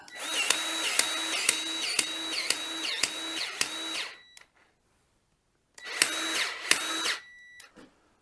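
A battery-powered grease gun pumps grease into a Western D8 spreader: a whining motor with regular pumping pulses runs for about four seconds, pauses, then gives a shorter burst, fairly close.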